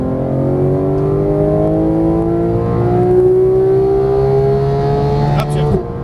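A Porsche 911 GT3 (991) accelerates hard on a track in Las Vegas, its loud engine note climbing steadily in pitch for several seconds before a sharp upshift near the end.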